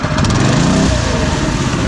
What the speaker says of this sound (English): Engine's doing good.